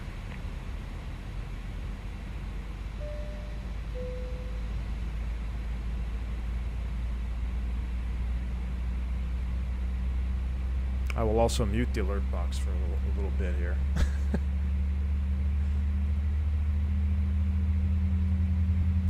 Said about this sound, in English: we're going to go ahead and start engine number 1